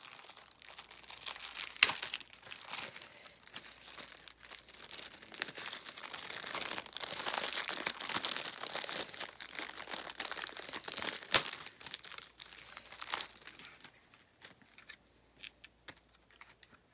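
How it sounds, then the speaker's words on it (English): A plastic package holding a Sailor Moon item from a Japan subscription box is torn open up close, with soft, steady crinkling and ripping for several seconds before tapering into quiet. "This is not going back in the package, so I can just tear this open now"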